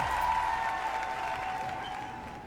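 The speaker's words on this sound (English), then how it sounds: "the crowd erupts into cheers" A crowd cheers and applauds in the visual novel Lucid9, a steady, dense wash of clapping and cheering that holds at an even level and tapers slightly toward the end, with no voices standing out.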